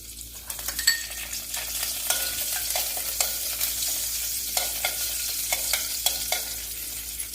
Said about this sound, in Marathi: ते चांगले तळले की त्याच्यावर टाकून घेणार आपण कढीपत्ता